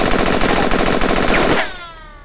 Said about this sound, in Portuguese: Eu tenho o rifle, usando o rifle.